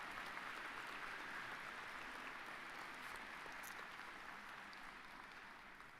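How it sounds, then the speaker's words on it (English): Sustained audience applause fills a college convocation hall, a steady broad wash of many hands clapping that holds at full strength before easing slightly toward the end, with no voices over it. "Let's give them a round of applause."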